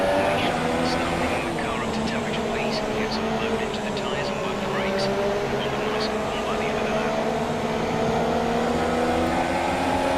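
Race cars on a formation lap in F1 2017 drone steadily, a dense engine roar with shifting pitch holding at constant loudness throughout, with a voice talking over it.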